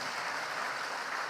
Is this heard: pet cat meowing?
no